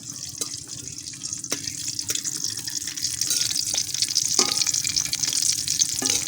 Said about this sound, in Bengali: এটা লাল লাল করে ভেজে নেব।